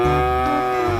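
A toy water buffalo gives one loud, sustained moo lasting about a second, with a buzzy, steady electronic tone and nothing else around it.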